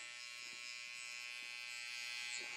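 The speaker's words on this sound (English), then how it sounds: "Just going to shave the rest of the hair that I see that's sticking out." Electric hair clippers trim stray hairs around the neck during a haircut, giving a steady, close, continuous buzz that holds unbroken throughout with no talking.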